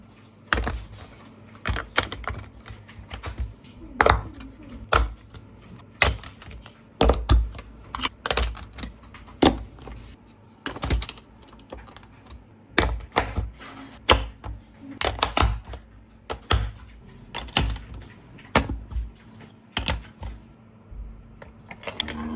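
Pieces being set in place while building the upper deck of a giant marble run, a steady run of sharp plastic clicks and taps in irregular bursts, close and fairly quiet, with no talking.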